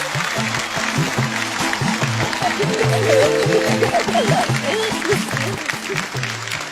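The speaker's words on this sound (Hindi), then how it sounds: "सर के लिए और जोर से तालियां प्लीज।" An audience at an event applauds a guest with strong, sustained clapping, while voices and tonal sounds carry on over the top of the crowd.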